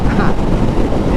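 Steady, loud wind roar buffeting a cracked helmet visor on a Honda Rebel 500 carrying two riders at freeway speed, a dense broadband rush with low rumble that never lets up.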